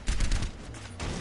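Rapid, dense gunfire rattles continuously in an Overwatch match, a short loud burst of overlapping shots with no break.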